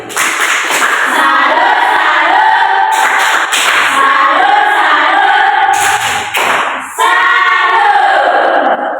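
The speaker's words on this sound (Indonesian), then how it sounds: "tepuk tangan untuk Reza dulu" Loud, close clapping of many hands in a primary school classroom for a student, a dense rattling burst that dips briefly now and then, with a little talk mixed in.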